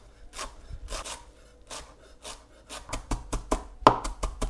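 Knife chopping a handful of fresh coriander on a board, first slow rubbing strokes then a quickening run of crisp close cuts.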